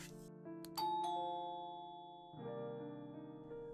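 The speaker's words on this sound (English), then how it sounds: "a bright doorbell echoed throughout the house" A bright two-tone doorbell chime rings in the RPG Maker horror game Cold Front, clear and resonant with a long ringing decay, heard alone.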